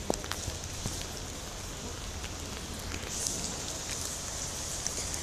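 Heavy rain pours during a thunderstorm in Gorky Park, Moscow, a constant dense hiss of drops on surfaces with occasional sharper patters, steady and close throughout.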